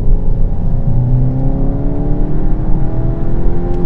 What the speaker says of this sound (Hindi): क्या इस कार के अंदर इंजन की साउंड आ रही है ना जो,